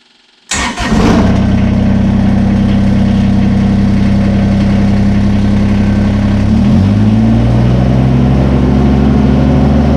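A Kubota BX23S compact tractor engine starts with a sudden catch, then settles into a loud, steady diesel idle close by, with a brief dip and recovery partway through.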